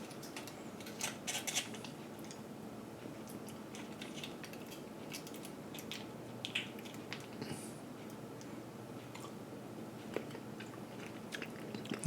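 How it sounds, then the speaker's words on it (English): A foil MRE jelly packet crinkles and tears up close, followed by faint chewing and small handling sounds in a quiet setting. "Let's tear a long corner and see what the jelly is like."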